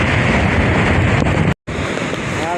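Strong typhoon wind and rough waves at Manila Bay during heavy rain, a loud, steady broadband roar with buffeting on the microphone and a brief dropout near the middle.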